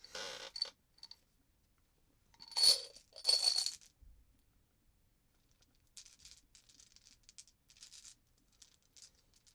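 Tabletop gaming dice tumble out of a jar in two close bursts of clattering, rattling plastic, followed by softer scattered ticks and clicks as they settle; no talking.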